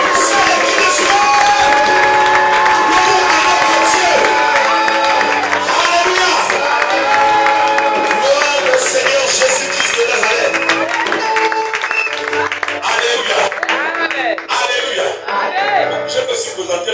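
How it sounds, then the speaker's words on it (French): Crowd at a church seminar applauding and cheering loudly for a prophetess, with sustained clapping, whoops and shouts filling the hall and music under it, ebbing slightly toward the end. "Je voudrais qu'on acclame très très très fort la prophétesse qui est de la famille."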